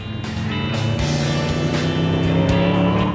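A powerful supercharged sports car engine rumbles loudly and close, its deep throaty roar holding steady with rising revs.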